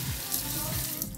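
Running water rinsing soap off painted motorcycle bodywork, a steady close hiss and splash of water flowing over the surface, with no clear speech.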